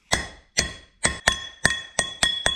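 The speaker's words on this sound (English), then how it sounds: "you hammer it in with a socket that fits on the outer race" Eight sharp metallic strikes, evenly spaced and ringing, like a hammer tapping a socket to drive a bearing in; the ring grows brighter toward the end.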